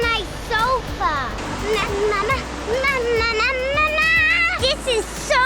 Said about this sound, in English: We have made it to the second waterfall, and it is even better than the first.